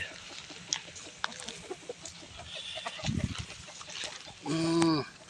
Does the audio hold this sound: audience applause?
no